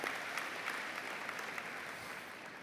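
An audience at a spiritual gathering breaks into steady, dense applause, heard from a moderate distance at a fairly even level for the whole stretch.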